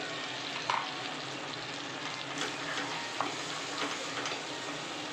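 A pinch of hing sizzles in hot oil while being stirred, giving a steady, close frying hiss with a few soft ticks and scrapes of the spoon.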